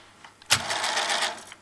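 A Grundig CF 5500 II cassette deck with a faulty motor has its play key pressed, a sharp mechanical clunk followed by a steady whirring, rattling run of the mechanism for about a second, close and alone.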